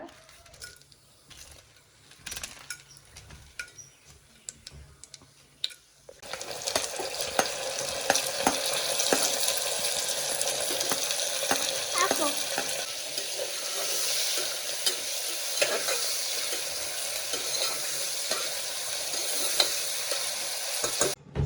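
Cinnamon sticks and cloves hit a hot pan with a sudden loud sizzle after a few quiet seconds, then crackle and hiss steadily for the rest, with occasional stirring scrapes and small clinks.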